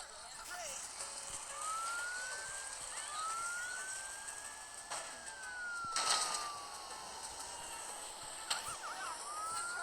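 A faint wailing fire truck siren in a video game rises and falls over a busy background rumble, with a few brief bursts of noise layered on top.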